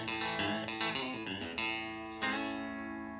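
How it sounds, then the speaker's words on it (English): An electric guitar runs through a Boss DD-3 delay pedal on a short slapback setting with one repeat. A few bright picked notes and chords ring out, each trailed by a quick doubled echo and a lingering tail. "Use a DD3, set the mode to S or 50 milliseconds, and adjust the delay time to around 3 o'clock."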